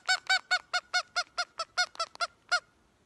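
A pink flamingo honks about a dozen times in a steady, rhythmic series of loud, nasal, goose-like calls, fairly close, with a short pause before the last call and no voices.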